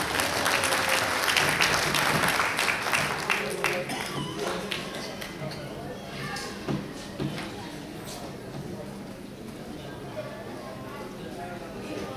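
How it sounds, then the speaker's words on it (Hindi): A gathered crowd gives loud, sustained applause in welcome of a speaker, the clapping strongest at first and then settling to a steady patter, with voices talking underneath. "जोरदार तालियों से स्वागत करेंगे"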